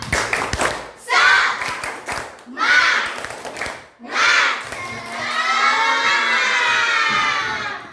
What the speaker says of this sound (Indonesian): sekarang sebelum belajar kita tepuk semangat dulu agar lebih semangat ya